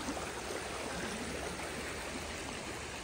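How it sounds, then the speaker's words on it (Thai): Fast-flowing stream water in Malham in the Yorkshire Dales, a steady broadband rush and babble that stays close and even throughout, with no voices over it. "น้ำไหลแรงด้วย"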